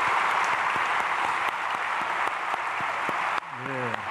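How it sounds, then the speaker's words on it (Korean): A church congregation applauds during a Sunday praise service, a dense, steady roar of clapping that fills the room for about three and a half seconds before it fades and a voice begins. "다 좋았어요. 박수하겠습니다."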